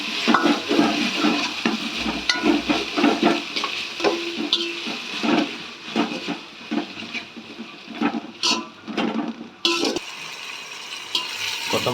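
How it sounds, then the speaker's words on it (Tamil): Coriander and mint stirred and sautéed in a pan for ghee rice, with soft sizzling and repeated scraping strokes of a spoon against the pan, close and steady, with no talking. "இப்போ நம்ம கொத்தமல்லி புதினா சேர்க்க போகிறோம்."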